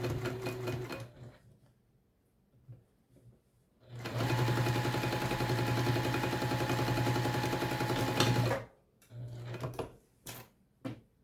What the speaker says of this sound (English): Right there is really the only place that I actually sew pretty fast.